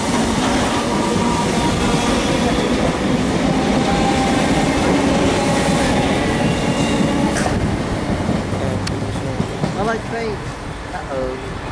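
A Southern class 313 electric train rolls past Chichester level crossing at close range, a steady rumble with rail clatter and a brief metallic squeal, while voices chatter faintly underneath.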